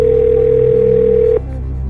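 A loud, steady telephone tone plays close to the listener for just over a second as a call to a friend goes through, then cuts off abruptly.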